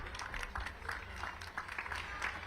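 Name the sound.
audience applause at a book launch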